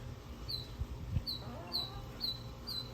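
A pet bird in a sandy Florida garden calls repeatedly, mimicking sounds it knows, with five or six short, clear chirps at a steady rhythm over soft outdoor background noise.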